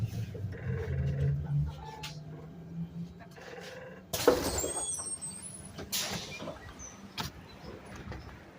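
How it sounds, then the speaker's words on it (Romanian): A city bus passes on a street, a low engine rumble building and fading, with a sharp burst of air-brake hiss partway through and faint street noise around it. "Asta a fost autobuzul."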